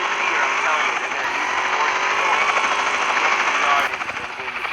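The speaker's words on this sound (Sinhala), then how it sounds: "මගේ පස්සෙන් හෙලිකොප්ටර් වල පොලිස් වාහනේ පන්නනවා." Police helicopters chase the player in the video game GTA San Andreas, heard as a continuous, loud rotor and engine drone. It holds steady and dips slightly near the end.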